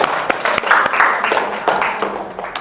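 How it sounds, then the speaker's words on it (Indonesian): A classroom of students applauding together after a teacher's prompt during a school lesson; brief, close clapping from a small group with a few sharper individual claps. "Oke, terima kasih, tepuk tangan."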